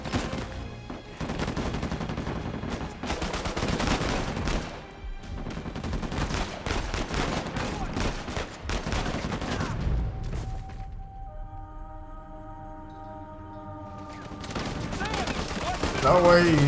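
A mounted turret in the video game Uncharted 4 fires long, loud, rapid volleys through the first ten seconds, then a sustained tonal hum takes over before more clatter closes out.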